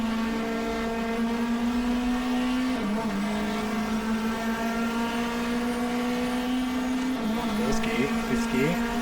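Steady race car engine drone from the GTR2 video game during a 1994 Australian Manufacturers Championship race at Phillip Island, a sustained tone with a couple of brief pitch dips and recoveries as gears shift.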